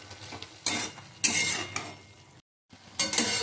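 Meat frying in a pan as it is stirred, soft sizzling under bursts of scraping utensil strokes against the pan, close and moderately loud, with a brief silent gap before the stirring resumes.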